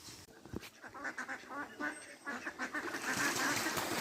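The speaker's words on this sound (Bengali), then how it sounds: "পুকুরে কি দারুণ হাঁসগুলো খেলা করছে" Ducks on a village pond give repeated nasal quacks and honks in quick, uneven bursts, fairly close and rising toward the end over a faint outdoor background.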